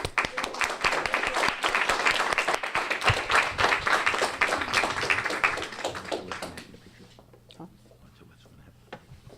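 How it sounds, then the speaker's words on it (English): At a Lions Peace Poster Contest awards event, a room claps for the winners: a close, steady patter of many hands for about six seconds, then it stops abruptly, leaving quiet room noise and a few faint taps. "A round of applause."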